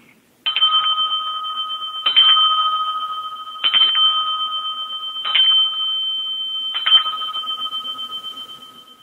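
A bright bell dings five times at an even, unhurried pace, each strike ringing clearly and fading slowly before the next, alone with no voices.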